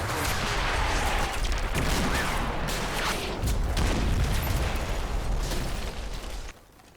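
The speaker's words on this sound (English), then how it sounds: "the barrage is going to run out of shells before it's complete" Artillery barrage in a Combat Mission World War II battle: a dense, continuous roar of overlapping explosions and shell bursts, loud and sustained for several seconds before abruptly thinning out at the end.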